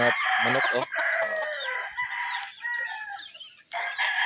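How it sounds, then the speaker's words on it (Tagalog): Several chickens cluck and squawk close by, with a rooster crowing among them, a busy, overlapping flock chorus. "Dami yung manok."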